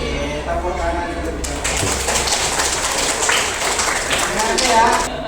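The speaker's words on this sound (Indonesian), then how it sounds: "Tepuk tangan dulu." A school group claps hands together, a dense burst of clapping starting after a moment and continuing steadily to the end, with voices talking over it.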